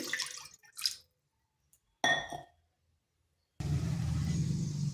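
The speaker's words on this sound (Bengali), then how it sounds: "কড়াইতে একটু জল দিয়ে দিচ্ছি" Water splashes into a wok in short pours, then a steady rushing stream fills the pan, close and fairly loud against otherwise quiet surroundings.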